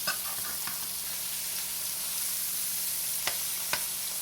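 Mushrooms sizzle steadily in a hot pan for a Thanksgiving side dish, a close, constant hiss broken by a few light scrapes of stirring near the end, with no voices.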